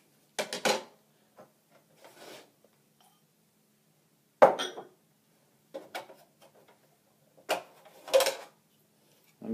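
Spare clicks and clunks from the blade being popped out of a Paderno spiral vegetable slicer, a few quiet knocks spaced across the moment with silence between them.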